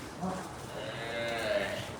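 Cattle at a Gujarati cow shelter, a large mother cow among them, giving a low drawn-out moo in a steady barn hum, with faint voices nearby.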